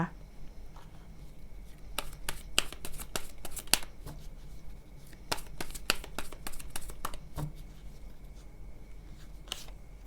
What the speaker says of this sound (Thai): ต่อไปแม่หมอเปิดไพ่ Oracle เสริมให้นะคะ